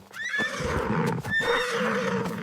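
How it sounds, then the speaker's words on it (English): A horse neighs loudly and shrilly, a long whinny followed by a second one, close and clear with no talking. "Listen to its neigh."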